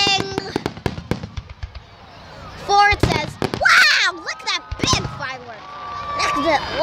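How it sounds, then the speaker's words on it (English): Big fireworks go off as a series of sharp pops and crackles, some close and loud, mixed with excited voices of adults and children talking and exclaiming throughout. "wow, look at that big firework."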